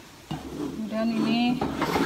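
Bolognese sauce poured into a pan of mac and cheese gives a soft, wet sizzling swish with light stirring scrapes, close and fairly quiet.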